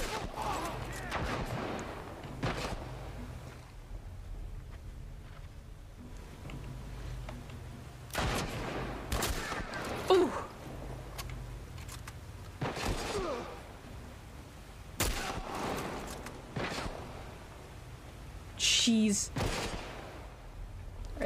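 Gunfire from The Last of Us Part 1, sharp shots in irregular bursts spaced several seconds apart, loud and close, with someone talking between them.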